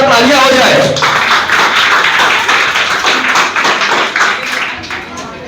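Audience applause at a school Independence Day program greets a class 9 student coming on stage, a loud dense burst of clapping that thins and fades over several seconds.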